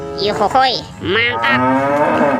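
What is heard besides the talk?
toy cow mooing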